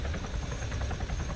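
A video game helicopter drones with a steady, dense rotor and engine roar, loud and close throughout a brief stretch with no pauses.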